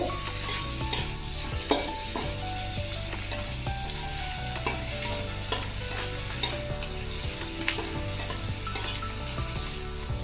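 Chopped onion fries in a pan for chicken soup, a continuous sizzle punctuated by intermittent clacks and scrapes of a spoon stirring, with soft tonal music running underneath.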